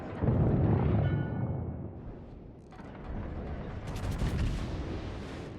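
Warship main guns in World of Warships firing a heavy salvo, a loud booming blast rolling off into rumble, followed by a second, crackling burst of impacts.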